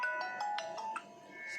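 A phone ringtone plays as a short, faint melodic chime of repeated tones during a call, heard alone with no talk.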